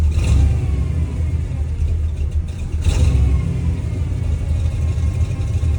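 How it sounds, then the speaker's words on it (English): Off-road vehicle engine on an Edelbrock or Quadrajet carburetor, still a little cold, idling close by as a loud, steady low rumble with a slight surge near the start and again midway. "idle's getting a little bit closer to where it should be now, so you can probably hear it"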